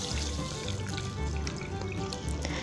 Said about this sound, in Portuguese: Um pouquinho de água filtrada.